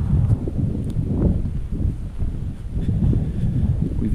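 Strong wind in the Sonoran desert, a steady low roar buffeting the microphone in gusts throughout, with no talking.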